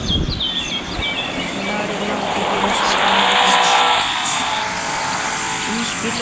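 Vehicle engine roaring at full speed in the video game Emergency Hamburg, a steady loud drone with rising pitch sweeps and brief tire-like squeals, continuous throughout.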